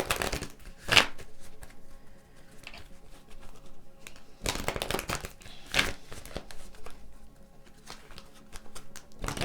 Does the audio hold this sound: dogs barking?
no